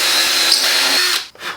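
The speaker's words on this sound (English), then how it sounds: "we're going to drill some pilot holes" A power drill bores pilot holes into a board in a garage workshop, a loud, close, high whine that holds steady for over a second, then cuts out and spins briefly again.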